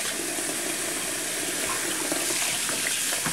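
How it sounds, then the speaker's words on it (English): Tap water runs steadily and close up while cabbage is rinsed in a sink for kimchi, a continuous broadband splashing rush that holds evenly throughout with no talking. "Running water."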